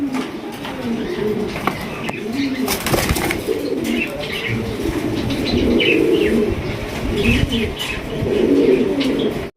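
Muffed helmet pigeons coo in low, rolling murmurs while wings flap in short bursts, with a few chirps scattered through; steady, close, and continuous throughout.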